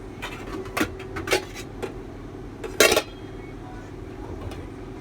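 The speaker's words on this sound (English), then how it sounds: "Now we'll put it on the gas and we cover." Metal pot of chicken stew clatters onto a gas stovetop, followed by a lid clanking shut, a few sharp clinks over a steady low hum.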